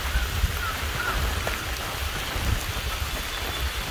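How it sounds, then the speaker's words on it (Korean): Steady rain pours down with a constant hiss on a mountain hike up Moraksan in South Korea, while a low, gusty wind rumble rolls underneath. "빗소리에 바람소리에"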